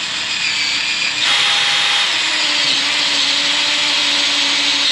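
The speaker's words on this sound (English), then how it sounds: "I'm putting in these self-tapping bolts." A power driver runs self-tapping bolts into an RV, a loud continuous high whine that steps up in pitch and intensity partway through and holds steady to the end, with no talking.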